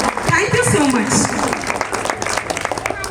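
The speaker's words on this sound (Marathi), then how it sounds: "चला तर मग एकदा जोरदार टाळ्या त्यांच्या प्रयत्नांसाठी देखील झाल्या पाहिजे" Audience applause at a preschool's annual event: a steady wash of clapping from a crowd, fairly loud and continuous, with a voice speaking over it early on.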